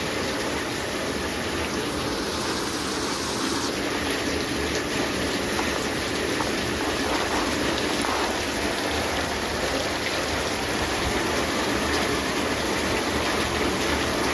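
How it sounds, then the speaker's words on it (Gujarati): Steady, heavy morning rain pours down continuously, a dense even hiss without pause or voices. "તો સવાર સવારમાં આવી ગયો છે વરસાદ"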